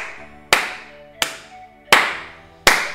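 Four sharp, loud hand claps ring out one by one at uneven intervals, each trailing off quickly, with no voices.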